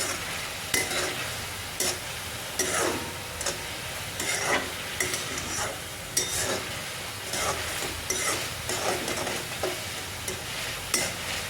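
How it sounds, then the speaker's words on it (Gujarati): Peas go into a pan of frying Indian masala macaroni and are stirred through, rhythmic spoon scrapes and clacks every second or so over a constant oily sizzle, close and fairly loud, no speech. "અહીં આપણે વટાણા છે એ નાખી દઈશું। એને પણ મિક્સ કરી નાખશું આપણે આ રીતે"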